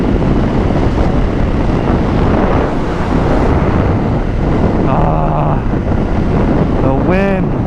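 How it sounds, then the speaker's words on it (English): Strong wind roars steadily across the microphone while riding a Suzuki Gixxer motorcycle, a loud unbroken rush with a brief voice rising near the end. "The wind feels so good."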